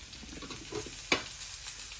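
Potatoes drop into a pan of frying pork curry, giving a brief louder sizzle and stir burst over a steady close frying hiss.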